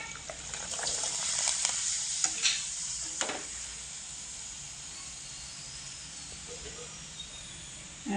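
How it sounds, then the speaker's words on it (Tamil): Rice appalam (papad) made from raw rice and sago frying in hot oil, a steady close sizzle and hiss with brief bubbling bursts and stirring, no speech. "அருமையாக பொரிஞ்சு வந்துருக்கு நல்லா இருக்கு நான் ஒரு பத்து பொரிச்சுக்கிட்டு காமிக்கிறேன்"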